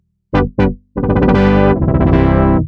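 Synthesizer patch generated with polytone, two short bright stabs followed by a long buzzy, distorted sustained chord with shifting harmonics, loud and upfront with no talk.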